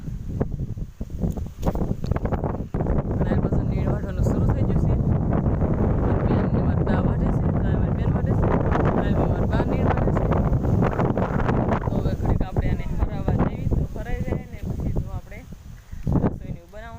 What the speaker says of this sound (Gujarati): અત્યારે પવન પણ બહુ છે